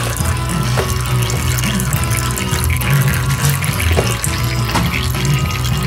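Used oil draining out during an oil change, a loud continuous splashing gush of liquid pouring steadily for several seconds, with no talking.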